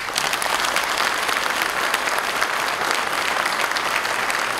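A live audience breaks into steady, dense applause greeting a cimbalom band that performs at a local primary school, the clapping continuous and even throughout.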